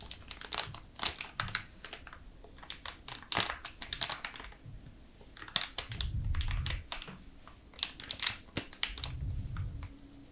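Strong fibrous paper being handled up close, giving dense crackling and crinkling in quick bursts with short pauses, plus a couple of soft low thumps.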